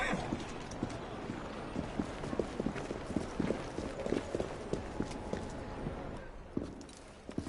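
A horse walks with steady clip-clop hooves in the video game Assassin's Creed Syndicate, the hoofbeats close and rhythmic, with soft voices talking over them.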